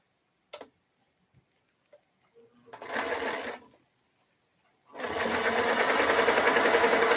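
A home sewing machine starts up after a few scattered clicks, runs in one short burst, stops, then runs again in a longer steady whir, close and fairly loud.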